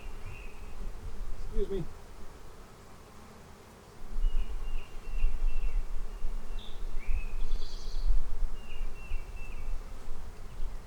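Guard honey bees buzz close around a beekeeper at a Flow Hive, with intermittent high, whining passes of individual bees over a low outdoor rumble. A voice briefly speaks early on.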